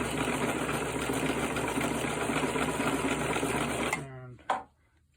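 A Kenmore 158.12271 sewing machine runs steadily on a zigzag stitch with a dense, fast mechanical whir. It slows and stops near the end, then gives a brief clunk.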